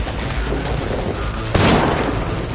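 Gunfire in the video game Cyberpunk 2077, a dense loud burst of rapid shots and booms, rising sharply in intensity partway through.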